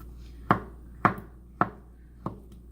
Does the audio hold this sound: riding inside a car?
no